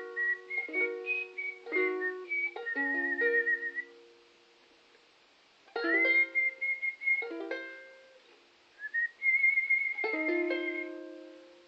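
A person whistles an instrumental tune in clear, close melodic phrases separated by short pauses.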